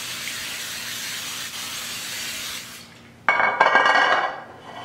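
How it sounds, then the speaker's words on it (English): Cooking spray hisses onto an 8x11 metal baking pan, a short close burst of spray near the end following a steadier quieter hiss. "I'll spray my 8x11 baking pan with some cooking spray."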